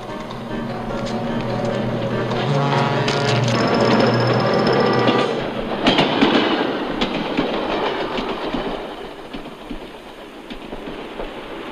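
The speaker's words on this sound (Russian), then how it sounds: "Поезд здесь останавливается." A train rumbles and clatters steadily along, loud and close, with a brief high whine partway through before the noise thins toward the end.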